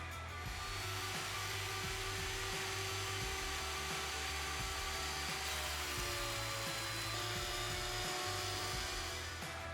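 Thickness planer feeding end-grain hardwood for a chopping board, shaving about 1.5 mm per pass: a high steady whine with repeated low thumping pulses, fairly faint and continuous.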